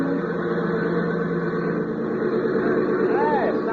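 A light airplane engine with carburetor trouble drones roughly and continuously, close and fairly loud, while voices talk over it.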